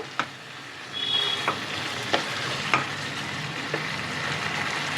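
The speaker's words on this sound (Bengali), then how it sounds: "আবারও চিকেনটাকে ভালোভাবে নাড়িয়ে দিতে হবে।" Chicken fries in oil in a kadai while a spoon stirs it, giving a steady close sizzle broken by several sharp scraping taps against the metal. No one speaks.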